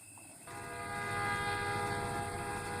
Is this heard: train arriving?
yes